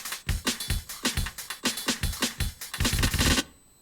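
Chopped Rex drum loop with punchy kicks and snappy hits in a fast, tight, repeating rhythm, loud and dry, ending abruptly after a few seconds.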